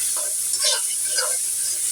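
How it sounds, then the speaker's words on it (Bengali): Rice tipped into a pan of fried spices and ghee gives a brief, steady sizzle with soft stirring scrapes, close and continuous throughout. "তো চাউলটা আমি এখন দিয়ে দিব।"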